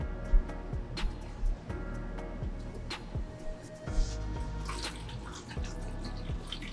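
Water poured into a sunflower microgreens growing tray, heard as gentle trickling and splashing with scattered drips and small knocks over a low background hum, close by and with no talking.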